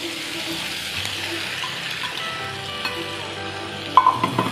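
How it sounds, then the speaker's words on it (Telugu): Tomatoes go into a sizzling fenugreek-leaf curry in a pan. A continuous frying hiss runs throughout, and a few sharper clatters and splashes near the end stand out over it. "ఇలా మంచిగా ఉడికిపోయిన తర్వాత ఇప్పుడు ఇందులోకి మనం టమాటాలు వేసుకుందాం."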